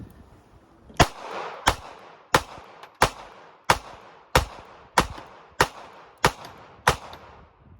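A Ruger LCP Max pistol, just pulled from sand, fires eleven sharp shots at a steady pace of roughly one every two-thirds of a second, each crack short and echoing, with no talking.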